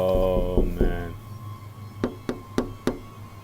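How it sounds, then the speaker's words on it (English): A brief vocal sound opens, then four sharp, evenly spaced knocks on a window ring out clearly in quick succession, in an 80s horror story setting. "Suddenly, the knocking on the window stopped"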